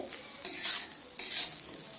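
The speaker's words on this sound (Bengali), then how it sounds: "সুজির সাথে এইভাবে মিশিয়ে দিয়ে আরও মিনিট পাঁচের সময় নিয়ে ভেজে নিতে হবে" Semolina and vegetables being stirred and fried in a kadai, with two bursts of dry scraping and light sizzling close by, a faint hiss in between, and no talking.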